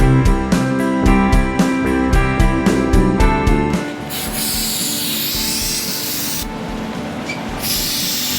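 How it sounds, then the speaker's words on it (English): A ball hone scours the cylinders of a Mitsubishi Colt Vista wagon engine block, first with rapid rhythmic rasping strokes, then a steady loud abrasive hiss, close up with no talking. "We're giving the cylinders a basic hone to make sure that the cylinder walls are in good enough shape"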